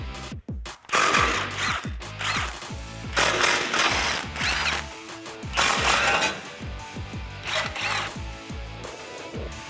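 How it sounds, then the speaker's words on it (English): A ratchet wrench with a 15 mm socket backs out the bumper bracket bolts on a 2016-2018 Chevrolet Silverado 1500, giving bursts of rapid, close clicking separated by short pauses, with no talking. "There's 3 15 millimeter bolts. So grab your 15 millimeter socket and let's get these removed."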